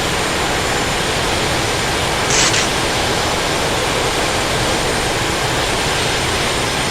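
Continuous loud jet engine whine and roar from a Su-25T Frogfoot taxiing toward the runway in DCS World, steady throughout with a brief brighter burst partway through.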